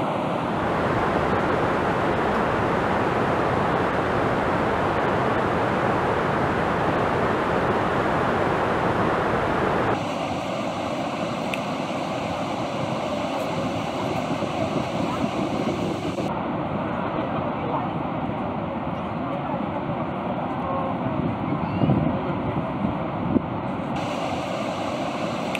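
Strong wind buffets the microphone near Niagara Falls, blending with a steady broadband roar of falling water and mist that runs unbroken for the whole stretch, loud and close, with no voices.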